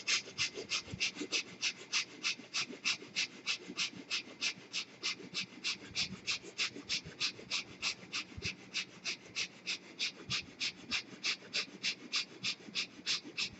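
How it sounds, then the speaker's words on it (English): Quick, short breaths drawn through both nostrils during a gentle breathing exercise, a fast, even rhythm of soft sniffing pulses repeating close and steady throughout, with no talking. "start breathing short in the quick breath, gentle breath"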